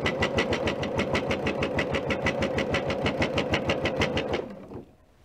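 A sewing machine stitches through several layers of quilted fabric in a fast, even mechanical rhythm for about four seconds, then winds down and stops.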